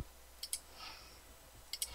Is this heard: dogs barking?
no